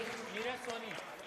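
An audience applauds at an award ceremony for social workers in Dewas, a steady dense clatter of clapping that runs the whole length with a voice over it.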